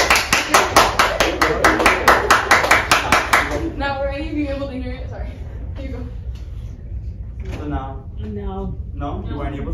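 Audience clapping at a group presentation, a loud, steady rhythmic series of about fifteen unison claps in the opening seconds, then people talking nearby.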